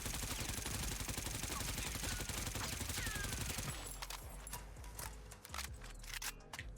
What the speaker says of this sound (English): that's me shooting all 50 bullets